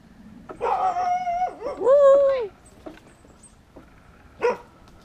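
A dog gives a few short, strained, whiny barks and yelping, howl-like cries, separated by pauses, heard fairly close against quiet background noise.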